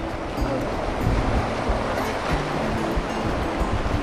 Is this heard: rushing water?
yes